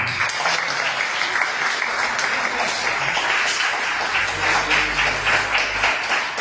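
A church congregation applauds together, sustained crowded clapping at even volume throughout, with a low murmur of voices and hum underneath.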